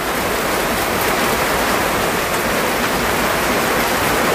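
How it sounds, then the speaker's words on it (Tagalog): Heavy rain pouring down steadily, a dense continuous wash of noise close by with no pauses. "Wala na tigil ang ulan."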